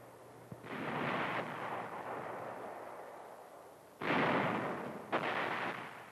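A WWII tank gun fires armor-piercing rounds: two long, heavy booming blasts with rolling rumble, one early and one about midway, followed by a shorter burst, all loud and with no voices.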